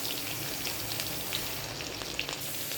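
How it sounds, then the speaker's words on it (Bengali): Pointed gourd and chopped onion fry in hot oil in a wok with a soft, continuous crackling sizzle. The hiss stays steady and fairly quiet, with tiny pops scattered through it and no voices. "খুব ভালো করে পটলটাকে একটু ভেজে নেব, একটু লালচে করে।"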